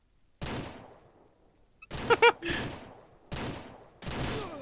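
Gunfire in the video game Ranch Simulator comes in sharp, separate bursts, four loud volleys with short silent gaps between them, each fading into a brief echoing tail.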